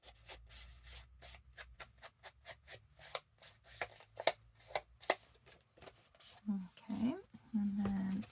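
Scissors snip into the corner of a paper journal page during a garden-themed papercraft project, a run of short dry cuts and rustling paper handling, close and fairly quiet, with a brief murmur near the end.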